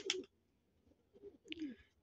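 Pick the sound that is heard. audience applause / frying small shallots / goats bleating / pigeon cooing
pigeon cooing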